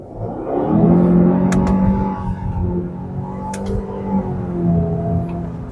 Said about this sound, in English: And now here, 40 kilometers per hour, and then just gun it.